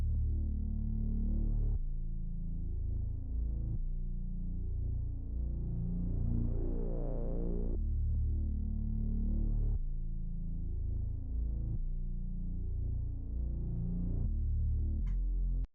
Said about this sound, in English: So lastly is this sub bass.